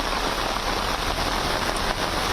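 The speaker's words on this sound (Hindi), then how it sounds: "मुंबई में भी लगातार बारिश हो रही है" Heavy monsoon rain pours down in Mumbai as a dense, unbroken roaring hiss, loud and even throughout, with no voices.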